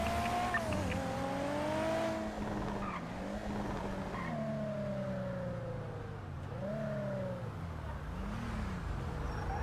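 A car in a video game driving with its engine revving up and down through the gears while tires squeal in drawn-out skids, a steady roaring drive with no talk.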